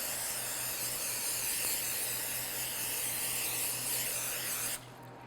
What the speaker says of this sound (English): what I'm going to do is just spray them with one of these non-stick sprays